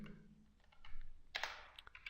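Code being typed on a computer keyboard: a quiet, irregular run of light key clicks with a few slightly louder taps near the end.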